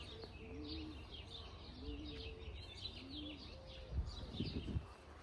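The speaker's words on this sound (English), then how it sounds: "There's birds everywhere because she feeds them and releases a lot of the smaller birds around here." Small birds chirp in soft repeated phrases alongside cooing doves at a wildlife rehabilitation site in Utah, with a steady outdoor background hum and a few low thumps near the end.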